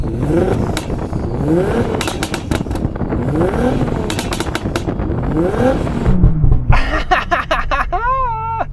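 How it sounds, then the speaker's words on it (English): A 1100hp Nissan GT-R engine revs repeatedly in sharp bursts, rising and falling, close and loud, ending with a high whining rev. "I'm going to rev up this GTR now because it sounds good."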